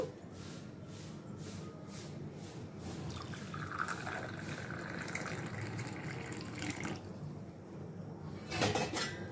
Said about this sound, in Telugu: స్టీల్ గిన్నెలో వాటర్ కూడా ఇంకొక గ్లాస్లో పోస్తున్నాను